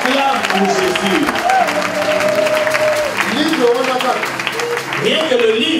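A church audience claps and cheers during a healing testimony service. The applause is loud and continuous, mixed with voices calling out and singing over it.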